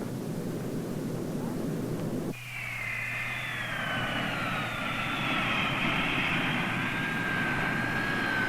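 An aircraft drones steadily through a long flight, a constant engine roar with a rising whine that swells slightly louder toward the end, with no other sounds.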